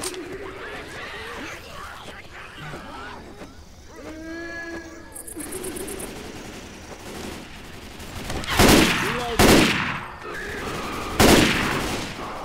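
Heavy bursts of gunfire from a co-op zombie shooter game ring out loud over ambient game noise, with three or four big booming shots clustered toward the end and faint voices in the mix.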